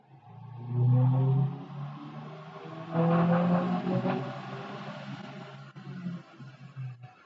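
A 2023 Subaru WRX accelerates hard through the gears on a logged pull, its engine note rising in a loud climbing drone, dipping at shifts and falling away near the end.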